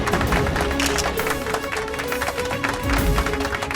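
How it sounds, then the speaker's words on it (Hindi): Loud, dense applause greets a participant walking on at a televised contest, a steady wash of many hands clapping at close range throughout, with no break and no talking over it. "तो जोरदार तालियों से स्वागत कीजिए नेहा शर्मा जी"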